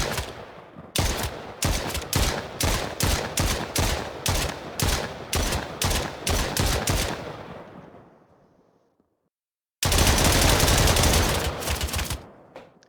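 A rapid volley of game gunfire from projectile weapons in an Unreal Engine 5 multiplayer test, about fifteen sharp, evenly spaced shots that fade into silence, followed by another dense burst.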